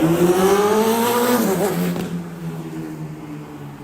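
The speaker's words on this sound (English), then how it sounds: "Damn motorbike." A loud motorbike roars past close by, its engine note rising and then dropping as it pulls away and fades into the distance.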